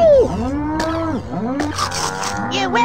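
Cartoonish cows mooing in the South Park Nintendo 64 game, loud drawn-out bellowing calls that overlap with game effects and a burst of noisy sound near the end.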